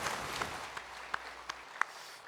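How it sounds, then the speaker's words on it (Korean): Scattered applause from a Korean church congregation during a Sunday worship service in Daegu, thinning to a few sharp, distinct claps over a soft hiss and fading out near the end. "평강의 박수를 하나님께 드리겠습니다."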